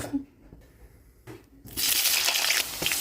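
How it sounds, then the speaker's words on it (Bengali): Oil is poured into a cooking pan on the stove, first a few quiet drips and clinks, then a loud, steady hissing rush of liquid that fills the rest of the moment. "এবার দেব তেল, একটু তেলটা বেশি করে দেব"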